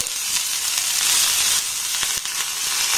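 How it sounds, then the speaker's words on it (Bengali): Chopped onion, green chilli and whole cumin fry in hot oil with a loud, dense, continuous sizzle and a few light stirring scrapes. "এবার পেঁয়াজ আর লঙ্কাটাকে একটু হালকা নাড়াচাড়া করে ভেজে নেব।"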